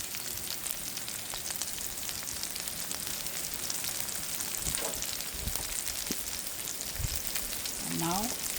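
Fresh garden basil sizzling in a hot pan, a steady, close frying crackle with scattered pops, plus a few brief utensil clinks near the end.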